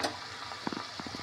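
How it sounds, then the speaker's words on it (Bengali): Chops frying in a pan, a faint sizzle under a few soft stirring knocks and scrapes, close and quiet with no talking. "কি সুন্দরভাবে চপ দিয়ে ভাজা হচ্ছে"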